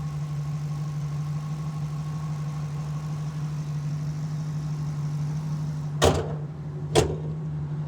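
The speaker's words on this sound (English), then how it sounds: "Engine sounds awesome." A 1975 Pontiac Trans Am restomod with a swapped-in LS3 V8 idles steadily with a deep, even rumble, followed by two sharp thumps near the end, probably the hood being closed.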